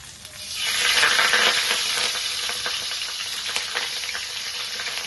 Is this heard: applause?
no